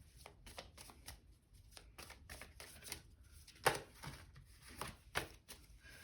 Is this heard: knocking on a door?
no